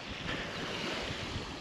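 Rough sea waves breaking on a Crimean beach at Tarkhankut, near Olenevka, a constant broad roar of surf with wind buffeting the microphone, no voices.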